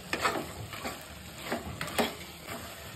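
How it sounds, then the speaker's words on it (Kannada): Chili powder being stirred into mutton curry in a pan gives a soft sizzle, with a series of faint scraping strokes about every half second, quiet and close, with no voices. "ಇದಕ್ಕೆ ಖಾರದ ಪೌಡರನ್ನು ಹಾಕಿ ಮಿಕ್ಸ್ ಮಾಡ್ತಾ ಇದ್ದೀನಿ."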